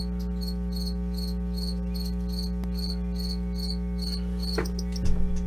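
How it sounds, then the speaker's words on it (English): Indoors, a cricket chirps loudly in regular rapid pulses over a steady electrical hum, with a couple of small knocks near the end. "I got a really loud cricket in the room somewhere"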